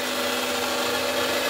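A power grinder runs steadily for the whole stretch, giving a dense, harsh, continuous whine with no pauses and no speech.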